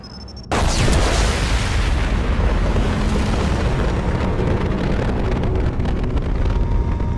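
A huge explosion bursts out in the Mass Effect 2 game, a sudden loud boom that rolls into a long, dense roar of rumbling debris and fire that keeps going to the end.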